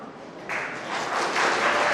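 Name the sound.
audience applause at seminar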